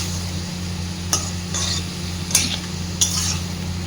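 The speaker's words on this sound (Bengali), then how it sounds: "খুব ভালোভাবে সব কিছুকে মিশিয়ে দেব।" A spoon stirs spices and a splash of water into a vegetarian bean curry in a pan, with three sharp metallic clinks against the pan spread over a few seconds above a steady low hum, and no talking.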